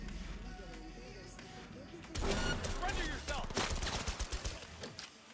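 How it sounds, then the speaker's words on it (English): An auto pistol fires in the video game Cyberpunk 2077: a sudden loud burst of gunfire midway, followed by echoing shots and rattling, with a voice talking over it. "Okay, I fire one shot."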